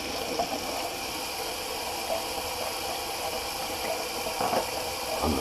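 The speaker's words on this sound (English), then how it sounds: "let me just do a quick cold rinse" Cold water runs steadily from a bathroom tap during a face rinse, a continuous close hiss and splash with slight fluctuations and no talk.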